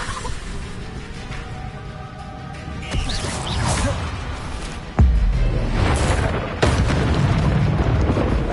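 Spells cast in Hogwarts Legacy, including the Incendio fire spell, give whooshing magical effects followed by two heavy booming bursts, with soft game sounds between them.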